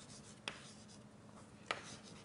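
Chalk or marker writing on a board during a dynamical systems mathematics lecture gives two short, faint scratching strokes against quiet room tone.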